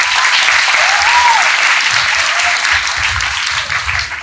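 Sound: audience applause at school ceremony

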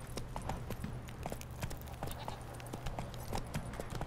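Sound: horse hooves clip-clop in The Witcher 3 video game

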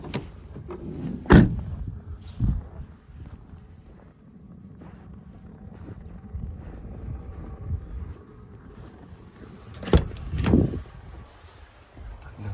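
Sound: van door being opened

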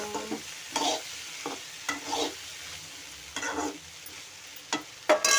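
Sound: okra being stirred and sautéed in a pan

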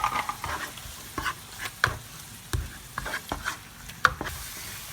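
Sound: stir-frying tomato paste in a pan for gravy

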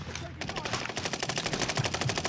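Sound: gunfire in Call of Duty Warzone Pacific video game

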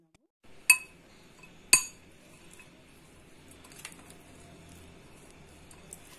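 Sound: spoon clinking while mixing chickpea salad with coriander and mint

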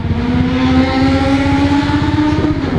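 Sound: supercar engine roaring loudly as it passes

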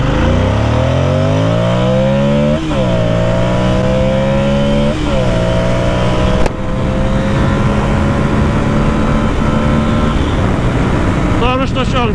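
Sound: Ducati Monster 600 motorcycle at full throttle

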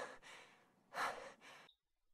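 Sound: someone panting

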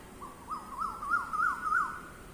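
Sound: birds calling in the morning

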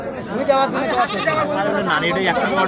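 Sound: goat bleating at a goat market

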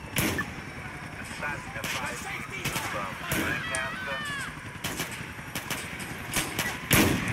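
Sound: gunfire from a firearm in the video game GTA IV

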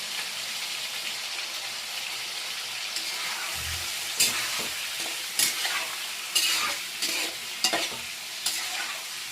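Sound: frying chicken gizzard in a pan

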